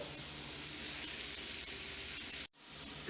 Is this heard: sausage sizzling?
yes